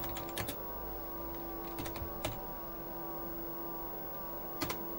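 Keys are tapped on the keyboard of a Quantel Paintbox engineer's console, a few faint, sparse clicks in small clusters over a steady electrical hum.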